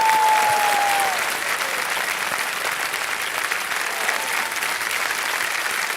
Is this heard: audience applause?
yes